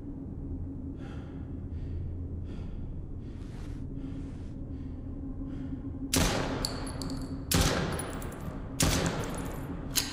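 In the horror game Chuxie, a few sharp, loud gunshots ring out in the second half, spaced irregularly over a low hum. Soft breathy sounds come before them.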